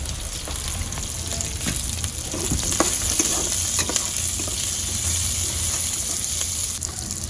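Curry leaves sizzle steadily in hot oil alongside peppercorns and garlic for a village-style ladies finger puli kuzhambu, with close stirring scrapes and clicks over a continuous crackling hiss.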